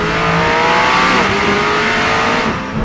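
A McLaren 600LT sports car on Trofeo tires revs hard, its engine note sustained and loud throughout, climbing in pitch and easing off near the end.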